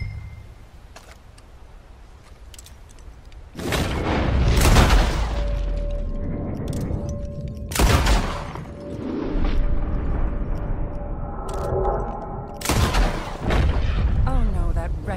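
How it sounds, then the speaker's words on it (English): Gunfire during shooting practice in Red Dead Redemption 2: several sharp, loud shots spaced apart, each with a booming tail, over a quiet outdoor backdrop. "I'll shoot a few more this time."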